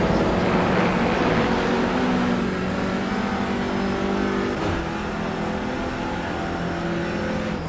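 A touring car engine in the iRacing racing simulator drones loudly and continuously, its pitch wavering slightly as it holds speed, with a brief dip near the middle before settling back to a steady roar.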